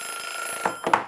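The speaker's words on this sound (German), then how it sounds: "diese Eieruhr, ey" An egg timer in the Lego Harry Potter video game rings with a steady, thin tone at moderate volume, with two short louder bursts toward the end and no talking.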